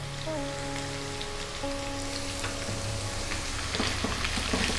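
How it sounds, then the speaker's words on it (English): Chopped onion sizzles and fries in a pan for an Indian egg curry, a soft, even crackle with faint tonal hum underneath and a few stirring clatters near the end, no voice. "We're now going to add that 1 cup of onion."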